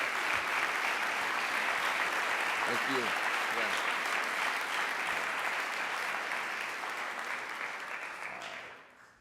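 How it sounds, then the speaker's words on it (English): An audience applauds at the 2011 Kalamazoo College Weber Lecture with dense, sustained clapping that fills the hall, then tapers off at the end. Someone speaks briefly over it. "We should give them a round of applause for even being here."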